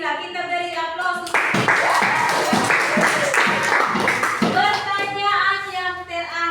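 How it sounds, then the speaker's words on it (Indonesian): Classroom of students giving a burst of clapping for a classmate's answer, a few seconds of dense close applause between stretches of a teacher speaking. "Kita beri aplaus."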